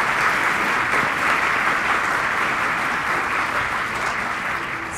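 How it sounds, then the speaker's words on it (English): An audience at a school band concert applauds, a dense, continuous wash of clapping that holds steady for several seconds and eases slightly toward the end. "So let's give the directors a round of applause to show how they did."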